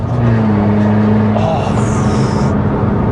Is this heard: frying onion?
no